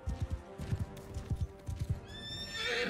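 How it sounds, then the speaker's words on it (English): A horse rears and neighs loudly in Mount & Blade II: Bannerlord, with several heavy hoof thumps in the opening two seconds and then a high, sustained whinny that runs to the end. "Damn it, horse. Why are you rearing?"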